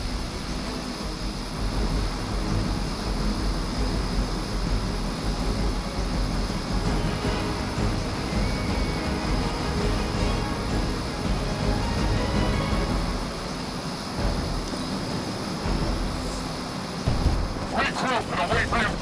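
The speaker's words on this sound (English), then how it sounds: "The helicopter is preparing for takeoff." Helicopter in the Midnight Suns video game readying for takeoff, a steady loud engine and rotor drone running throughout, with speech present over it.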